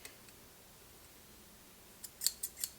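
A quiet room, then a few sharp metallic snips and clicks near the end as a pair of scissors or shears from a vintage sewing machine is opened and closed.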